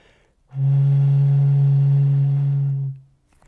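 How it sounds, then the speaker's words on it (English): A single hollow, breathy tone from air blown across a plastic bottle's mouth, held steady for about two seconds, then fading out. "here I have a plastic bottle, and if I blow across it, just like I do with the flute"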